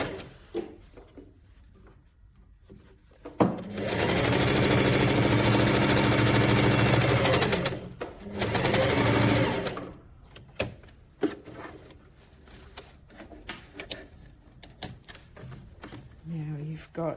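A sewing machine stitches fabric for inseam side pockets in a loud, steady mechanical whirring run of about six seconds that briefly stops and restarts, followed by shorter bursts and handling knocks while a person talks.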